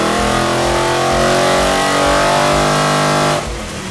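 A supercharged Holden VF SS V8 revs hard on a dyno, a loud, steady high-rpm roar with strong harmonic whine that holds for over three seconds before dropping off abruptly near the end.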